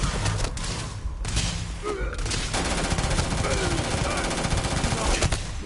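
EM rifle gunfire in the sci-fi video game Starfield: dense, rapid automatic bursts with thuds and impacts, continuous and loud across the clip, with game voices faintly underneath.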